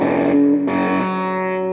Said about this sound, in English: Real blatty, shitty distortion.